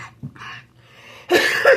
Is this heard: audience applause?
no